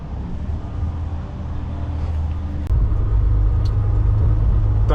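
A semi truck hauling a light 800 kg load rolls across a toll bridge, its steady low engine and road rumble droning continuously, swelling slightly louder partway through, with no talk over it.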